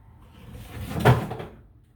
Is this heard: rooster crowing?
no